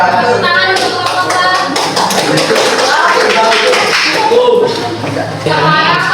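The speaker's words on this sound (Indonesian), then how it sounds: "Tepuk tangan untuk kelompok" Applause for a student group in a classroom, a dense, steady patter of many hands clapping close by for several seconds, with some voices mixed in.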